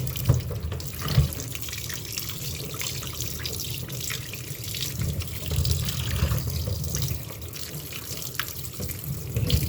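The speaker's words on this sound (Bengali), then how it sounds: "এই যে মুড়োগুলো ধুয়ে নিই" Catla fish heads rinsed under a running kitchen tap, a steady close rush of water splashing into the sink with small sloshing shifts throughout.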